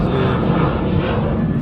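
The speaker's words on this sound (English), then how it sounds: "Got the plane buzzing us." A low-flying airplane passes overhead above a backyard vegetable garden, a loud continuous engine roar and rushing drone filling the whole moment.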